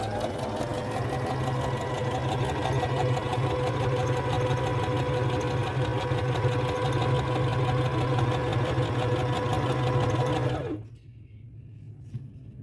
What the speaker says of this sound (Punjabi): ਹੁਣ ਆਪਾਂ ਜੇ ਇੱਥੋਂ ਪਾਵਰ ਦਬਦਣੀ ਤੇ ਮਸ਼ੀਨ ਚੱਲ ਪਣੀ